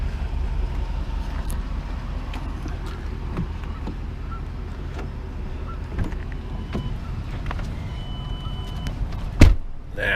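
A 2012 Ford Expedition EL idles steadily, a low, continuous engine rumble that stays even throughout, with a brief knock near the end.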